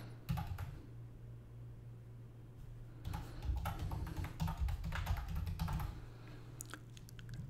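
Typing a username on a computer keyboard, with bursts of quick, close key clicks in two runs separated by a pause, over a low steady hum.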